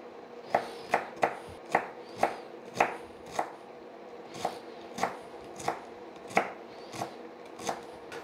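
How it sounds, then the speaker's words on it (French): Knife finely chopping shallots on a cutting board, a series of about fifteen crisp, evenly spaced chops, close and distinct, with no talking. "on va couper nos échalotes tout fin"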